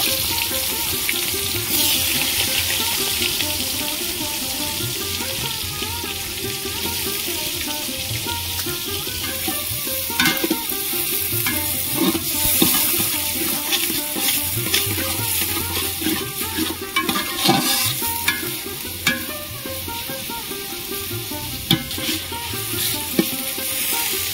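Onions sizzle steadily in hot mustard oil with sugar for a mutton curry, a loud, continuous frying hiss with occasional crackles and stirring scrapes throughout.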